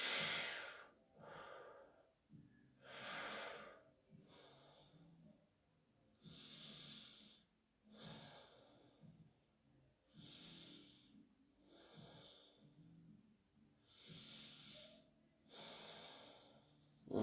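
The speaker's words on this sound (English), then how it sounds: "that's the breathing right there" Slow, deep breaths drawn in and pushed out during an energy-cultivation breathing exercise, about eight close, airy cycles, each inhale and exhale separated by brief quiet pauses.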